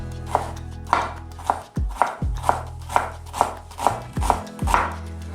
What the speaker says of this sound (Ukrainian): Нарізаємо цибулю тонкими півкільцями